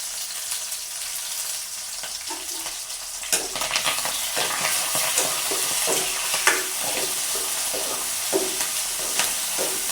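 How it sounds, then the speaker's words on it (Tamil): Onion, garlic, green chili and curry leaves sizzling in hot oil, starting as a soft hiss and then turning louder and busier as they are stirred, with a spoon scraping and tapping the pan now and then. "இப்போ சரி, எண்ணெய் பார்த்தீங்கன்னா நல்ல வடிவாக கொதிச்சுட்டு அப்போ நாங்கள் வந்து முதலாவதாக வெங்காயத்தையும் உள்ளியையும் பச்சை மிளகாய் கருவேப்பமிலை எல்லாமே சேர்த்து வதக்குவோம்"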